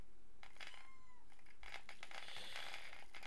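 A cat meows several times in quick, rising and falling calls, fairly close, over a faint steady background hum with no talking.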